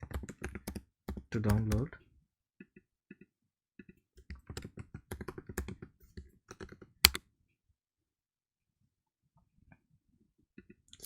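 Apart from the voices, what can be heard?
typing on a computer keyboard to log in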